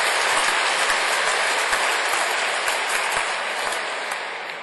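An audience at a 2015 graduation ceremony gives sustained applause for the Rotary host counselors, a dense, even roar of clapping that fades slightly toward the end.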